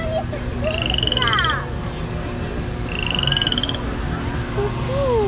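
Frog croaks in a lively game scene at a Halloween pumpkin fest, two rising chirpy calls over a busy, steady background bed with bits of music-like tones.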